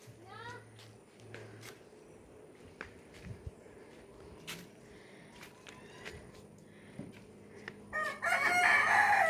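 Roosters crow and cluck at a moderate distance on a rural property, with scattered calls and light footsteps, ending in a loud burst of noise.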